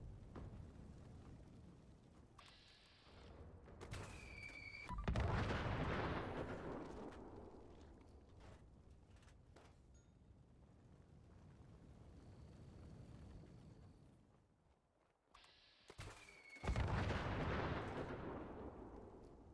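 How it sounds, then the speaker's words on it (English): Two heavy, booming explosions from a Two Shot launcher in the Fallout 76 video game, one near five seconds and another near seventeen, each a loud blast with a long rumbling decay over a quieter background. "And the explosion is amazingly fun."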